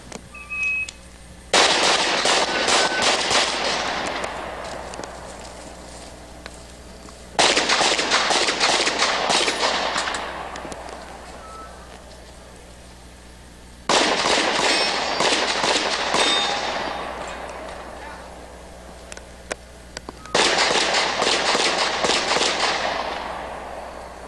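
Pistol fire from a shooting competition stage comes in four separate rapid strings of sharp shots, each burst lasting a few seconds with echoing decay, separated by quiet pauses.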